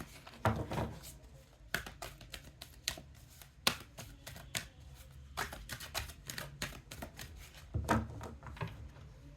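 Oracle cards being shuffled by hand in a tarot-style reading, a quick run of crisp papery riffles and taps in uneven bursts, close and fairly quiet, with no talking.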